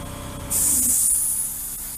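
Abrasive hydroblaster abruptly bursts on, blasting sand and water as a loud, close, steady hiss that holds for about a second before easing slightly, with no voices.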